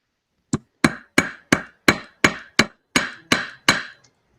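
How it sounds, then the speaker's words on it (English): A metal hammer strikes rivets being set on a metal plate, ten sharp, close blows at a steady, even pace, each ringing briefly before the next. "This is a metal plate, Ah, and I use a metal hammer when I set rivets."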